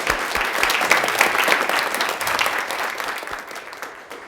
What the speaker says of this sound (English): Please, a round of applause for Kathleen Tarr.